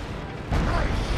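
A single tank cannon shot in World of Tanks, a sudden deep boom rising over quieter in-game rumble and holding loud to the end of the brief moment.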